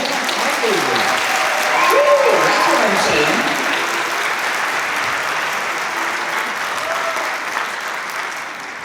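An audience at a high school strings festival concert claps in a steady wash of applause, moderately loud and continuous, while someone speaks over it.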